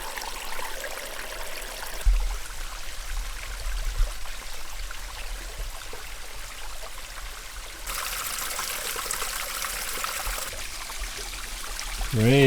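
Cold meltwater runs beneath melting snow on a mountain trail in Maine at about 3,200 feet, a steady trickling rush that holds throughout, brightening into a livelier splashing stretch partway through.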